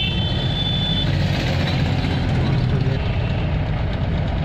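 An army vehicle's engine runs on a road near Bikaner, a steady low rumble with broadband road noise that holds throughout, close and fairly loud, with a brief high whine early on.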